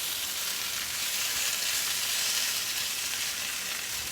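Mac and cheese balls fry in hot oil, filling the space with a steady, close, loud sizzle and crackle that holds without a break and has no voices over it.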